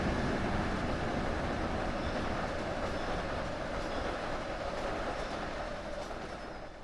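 A seven-coach passenger train in the Train Sim World simulator on a New York route rolls past with a steady, loud broadband rumble of wheels on rail. The roar stays even throughout, then eases off slightly toward the end.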